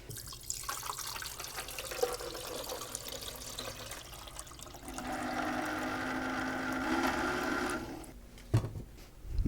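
Keurig Classic coffee maker with filtered water in its tank, a fault leaving it circulating water instead of brewing: a steady watery trickling and pumping hum that swells louder midway, then stops with a few clunks near the end.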